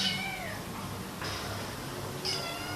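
Kittens only a few months old meow at an animal shelter, three thin, high cries standing out over steady background noise.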